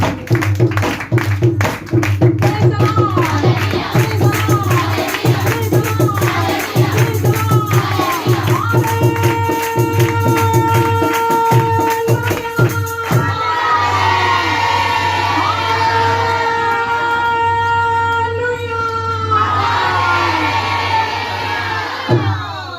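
A church congregation at a sermon claps rhythmically and cheers, loud and close, with shouting voices and whoops over the beat, shifting midway into sustained vocal sound over a low hum.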